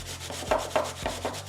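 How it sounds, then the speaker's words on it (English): An onion being grated on a grater, several rhythmic rasping strokes close up and quiet, with no voice. "So I'll start off with my onion, and I'll take my trusty grater. I'm just going to grate."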